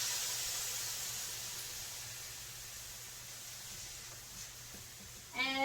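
Soy sauce hits a hot pan of sizzling fried rice, giving a steady, soft, broad hiss that holds for several seconds before a brief rattle near the end.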